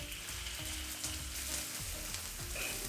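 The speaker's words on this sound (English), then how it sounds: "So first we'll fry the onions." Onions frying in a generous pool of oil for vegetarian Chinese-style fried noodles, giving a steady, dense crackling sizzle that stays fairly soft and even from start to finish.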